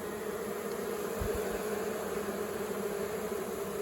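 Honey bees hum around hive boxes after an unexpected swarm, a steady, faint drone that carries on without a break, with a few soft low bumps near the middle.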